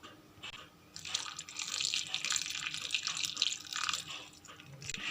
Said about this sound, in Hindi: अब हमने इसमें 1 कप पानी ऐड करना है ताकि इसका अच्छा सा पेस्ट बन जाए।